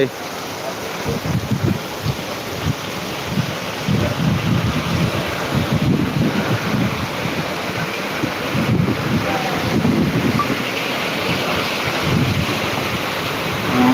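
Torrential rain pours down in Jamkandorna as a steady, dense roar lasting throughout, with no breaks, and faint voices surface now and then beneath the downpour.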